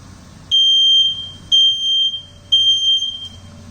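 A Nest smoke detector sounds its alarm after air fryer smoke while sausages cook, giving three loud, piercing beep bursts about a second apart, each cutting off sharply, over a low background hum.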